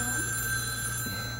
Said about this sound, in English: I keep hearing the phone ringing